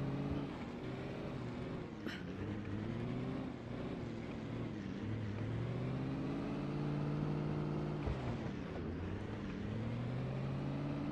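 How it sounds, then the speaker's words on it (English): A vehicle engine in the video game Project Zomboid drones steadily, its pitch rising and falling gently as it runs without letup. "Guess my engine's a little too noisy."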